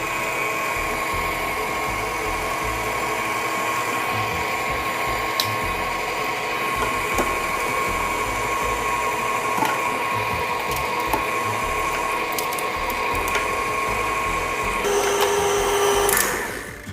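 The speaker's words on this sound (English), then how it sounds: "Now I'm just gonna turn on the grinder and then push it through." An electric meat grinder processing steak for chili runs as a steady, loud motor drone with a constant whine, close by, shifting slightly near the end as it winds down.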